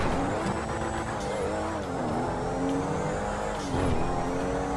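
A stolen super car in GTA 5 roars continuously, its engine droning and revving with rising and falling pitch as it drives, loud and close throughout with no talk.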